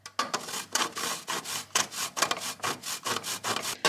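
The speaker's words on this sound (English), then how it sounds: "what we're doing here is we're grating the chocolate" Chocolate being grated by hand, a rapid series of rough, scraping rasps in a steady back-and-forth rhythm, close and fairly quiet, with no talking.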